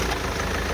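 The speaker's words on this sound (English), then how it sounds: "Listen to this diesel-powered 2-liter box of milk." A 2-litre M47 diesel engine in a high-mileage, tuned BMW E46 runs steadily with a dense, constant drone, close and loud, with no talk.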